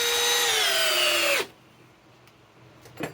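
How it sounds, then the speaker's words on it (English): A Milwaukee M12 impact driver drives a 4-inch timber screw in one loud, continuous burst of whirring and hammering that falls slightly in pitch, then stops abruptly after about a second and a half, leaving quiet room noise and a faint knock. "Now let's run the Milwaukee again with more 4-inch timber locks"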